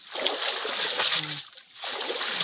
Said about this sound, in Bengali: জাল ধো ধোও ভালো করে